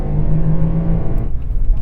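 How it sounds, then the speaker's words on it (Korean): A Chevrolet Colorado pickup truck's engine revving loudly during an off-road test drive, a close, steady droning roar that holds for a moment and then eases off, heard alone. "엔진 소리가 어마어마하게 크게 들리네."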